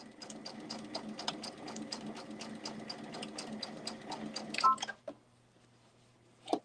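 A sewing machine bastes backpack pieces together at the seam allowance with a fast, even run of close stitching. It stops abruptly, followed by a few soft clicks and a light knock in the quiet.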